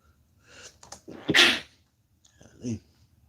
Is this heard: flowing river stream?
no